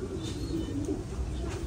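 An adult American Giant Runt (Gà Mỹ) pigeon coos softly nearby, a few low, muffled murmurs against steady background noise.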